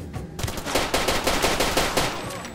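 Rapid gunfire rings out in the video game Far Cry 2. It is a fast, loud burst of automatic shots repeating at an even rhythm, heard alone after a brief quieter lead-in.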